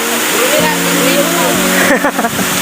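A waterfall in Barangay Malibato, Manticao, Misamis Oriental pours with a steady, loud rushing wash, while voices talk over the constant roar close by.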